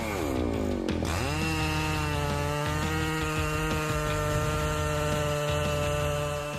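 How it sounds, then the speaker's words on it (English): A Husqvarna 3120 XP chainsaw bites into a large piece of wood, its engine dipping under load and then holding a loud, steady, close-up whine as the cut continues. "The resounding sound of the Husqvarna 3120 XP chain saw makes us admire the power it"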